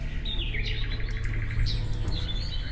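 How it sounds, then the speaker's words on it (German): A falcon in a German hidden-object adventure game gives a couple of high, sweeping chirping calls over a steady low game ambience, with no talk. "Wie kann ich den Falken hier herunterlocken?"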